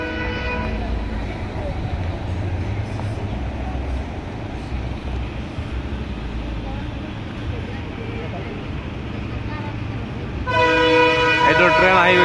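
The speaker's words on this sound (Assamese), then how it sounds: "এইটো ট্ৰেইন আহি গৈছে, এইটো ট্ৰেইন আহি গৈছে।" A train rumbles past at a level crossing in Dimapur, Nagaland, a steady loud mechanical roar filling most of the stretch before a horn blasts out loudly near the end; voices can be heard talking over the traffic noise.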